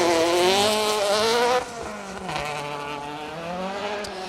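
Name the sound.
Ford Fiesta ST150 rally car passing on stage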